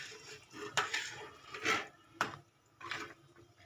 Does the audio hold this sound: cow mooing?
no